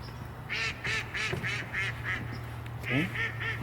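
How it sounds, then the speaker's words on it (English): Mallard ducks quacking in a rhythmic series of nasal calls, fairly close and clear, with a short pause before another burst of quacks over a low background hum. "Those are mallards."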